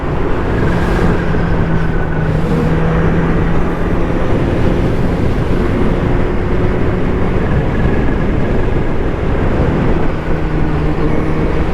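A sport motorcycle accelerating on a road, heard as a loud, unbroken roar of engine and rushing wind from start to finish, with no speech.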